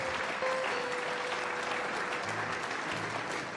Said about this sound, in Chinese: 让我们一起掌声为他见证